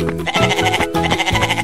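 A goat bleats in quick, wavering pulses over a beat-driven musical backing, loud and close throughout the short stretch.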